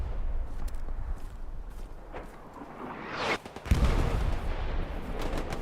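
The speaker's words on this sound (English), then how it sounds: "Sounds like a machine gun." Machine-gun fire in a military video game cracks in scattered bursts at a distance, with a sharp whoosh and thump midway followed by more rapid shots over a dense background of battle noise.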